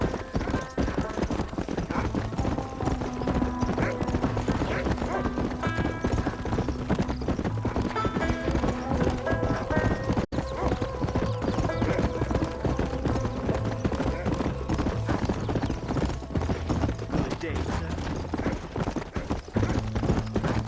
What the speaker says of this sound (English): Paul, my horse is fast enough.